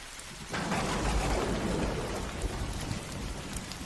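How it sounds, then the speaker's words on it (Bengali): A night thunderstorm bursts in after a brief quiet moment, with a loud rumble of thunder over heavy, rushing rain that keeps hissing steadily as the thunder fades, with no voices. "হঠাৎ তীব্র শব্দে একটি বজ্রপাতের সঙ্গে চারপাশে শিয়ালের ডাক মিলে তৈরি করেছিল ভীতিকর আবহ"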